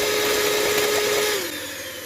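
An electric hand whisk runs steadily, beating eggs and sugar for amaretti biscuits, a loud continuous motor whine with no talk that drops in pitch and eases slightly near the end.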